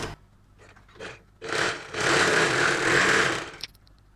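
A sewing machine stitches a folded quarter-inch hem on a saree blouse piece, starting with a few short taps, then running steadily for about two seconds before stopping with a click.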